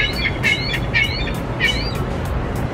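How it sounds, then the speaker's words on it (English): A seagull calls repeatedly in Toronto, several sharp, rising squawks in quick bursts over a steady, loud rumble of outdoor background noise. "Oh my God, this seagull."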